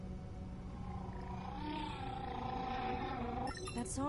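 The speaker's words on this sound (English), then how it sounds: "Humpback whale." Humpback whale song in the underwater game Beyond Blue, long moaning, wavering calls that swell and fade against a low ocean rumble, distant-sounding and faint, with a brief higher cry near the end.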